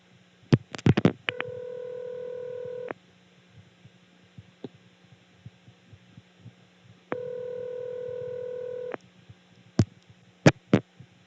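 A 1976 step-by-step telephone switch in Birdsboro, Pennsylvania, on a tandem call routed through a step office toward a crossbar 5 exchange: sharp relay clicks, two steady buzzing tone bursts over a low hum, then final snapping clicks.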